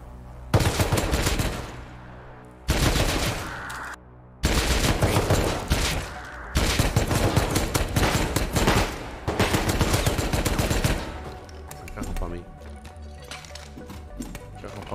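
Gunfire in the survival video game Rust comes in loud, close bursts of rapid shots separated by brief silences, followed by quieter scattered sounds, with no voices present.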